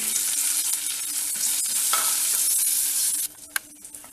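Loud, steady sizzling of spices frying in hot ghee in a pan, with stirring, cutting off near the end to a few quiet clinks.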